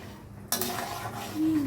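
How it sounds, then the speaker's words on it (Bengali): Thickened milk with jaggery being stirred in a pot on the stove, a steady close scraping and swishing of a spoon against the pot after a brief quiet start, with no talking. "এবার কিছু পরিমাণ গুড় দিয়ে দিলাম, আরও নাড়তে থাকবে"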